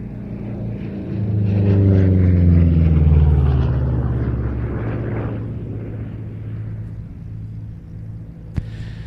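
A P-47 propeller fighter plane drones overhead at a Duxford flying day, its rumbling engine swelling loudly then slowly fading as it passes, with a sharp click near the end.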